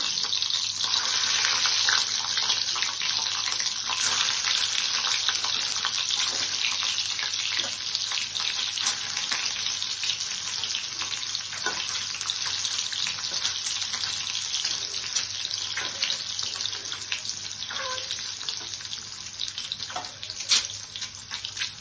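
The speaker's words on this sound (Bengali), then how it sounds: "এইভাবে ডিমগুলোকে ফ্রাই করে নেব।" Eggs for a Bengali mustard coconut egg curry frying in a pan, a steady dense hiss and crackle of hot oil running continuously at close range, with no talking.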